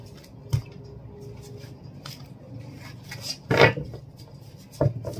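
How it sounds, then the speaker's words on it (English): Tarot cards are shuffled with soft rubbing and riffling, broken by a few sharper snapping bursts, close up and with no talking. "Two more shuffles and we are done."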